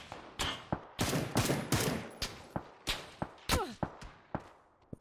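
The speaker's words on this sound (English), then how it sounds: "Someone else fired." Gunfire in the video game PUBG cracks out as a rapid volley of sharp shots, clustered tightly at first and then spacing into single reports, fairly close with no talk over it.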